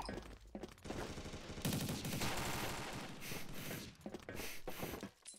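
Rapid bursts of automatic gunfire from the Toy Gun in the shooter game Combat Arms, dense and continuous for several seconds with short gaps and mechanical clatter between volleys, no voices.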